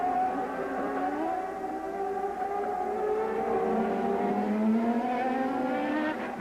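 A CART Indy race car at the 1998 Houston street-circuit round accelerates on slick tyres, its high-revving engine whining steadily upward through gear changes for several seconds, loud and close, with no voices.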